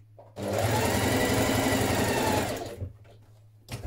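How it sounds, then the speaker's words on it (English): Sewing machine running a steady line of stitching along a dress bodice, a close continuous mechanical whir that starts abruptly, holds for about two seconds, then stops with a few faint clicks. "Again, I'm going to do 2 lines of stitching."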